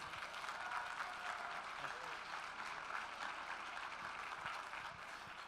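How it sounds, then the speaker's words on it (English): Steady applause from a dinner audience at a Republican Party gathering, honoring law enforcement; a dense, even wash of clapping held for several seconds at a fairly faint, distant level, with some voices mixed in. "I think that our law enforcement deserves a great round of applause."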